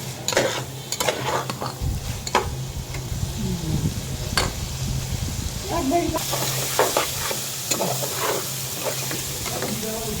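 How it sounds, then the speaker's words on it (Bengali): Food is stir-fried and sautéed in a pan, giving a continuous close sizzle broken by frequent spatula scrapes and clinks against the metal, with faint voices briefly in the background. "তাইলে কষতে থাকুক, আপনি থাকেন সাথে"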